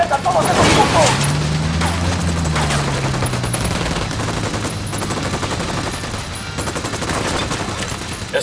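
Rapid bursts of gunfire fill a firefight in the Ghost Recon Wildlands video game, loud and continuous, with someone shouting over the shooting.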